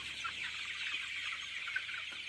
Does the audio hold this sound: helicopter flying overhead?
no